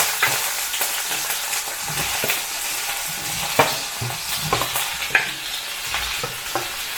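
Shallots sauté in a pan with pork juice, a steady close sizzle with occasional stirring clicks and scrapes throughout, no voices.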